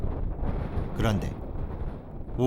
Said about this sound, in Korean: 오후에 들어서면서 바람 소리가 커지기 시작했다